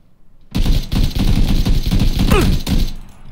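Rapid automatic gunfire in PUBG, loud and close, a dense sustained burst of shots that starts abruptly and runs for nearly three seconds before stopping.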